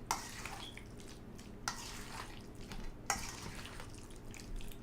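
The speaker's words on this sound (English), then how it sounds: "Let's add in our chopped eggs, boiled eggs. And again, fold." Chopped boiled eggs being folded into potato salad with mayonnaise: soft, wet stirring and scraping, with three sharper clinks of a utensil against the bowl over a quiet background, and no talk.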